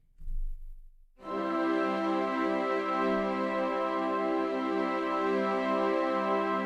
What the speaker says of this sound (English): then we just have this little orchestral chords patch from Musio that sounds like this.